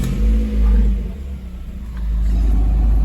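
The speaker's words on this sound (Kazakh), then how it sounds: "Қазір көлікті қыздырып көрейік." A Lada Vesta engine with a straight-through exhaust revs up twice, a deep rumbling bark that swells, dips, then climbs again, loud and close with no talking.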